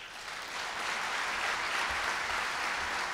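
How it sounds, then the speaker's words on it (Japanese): Steady applause from a conference audience approving a resolution at a Rotary district conference, a dense continuous clatter of many hands filling the room for about three seconds with no talk over it. "はい、多数の拍手。"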